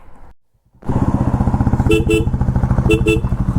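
A Royal Enfield Interceptor 650 motorcycle engine starts up and idles with a loud, steady throbbing rumble, a couple of short horn toots sounding over it.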